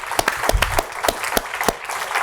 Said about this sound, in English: let's please give a quick round of applause to our panelists